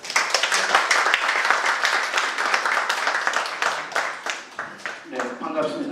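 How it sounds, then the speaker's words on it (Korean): An audience claps together in a dense, sustained round of applause at a society meeting, fading slightly toward the end as a voice begins. "박수."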